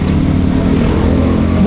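Motorcycle engine firing up during a roadside breakdown repair, a loud steady idle rumble close by that fills the whole short stretch.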